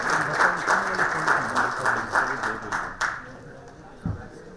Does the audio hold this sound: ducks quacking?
no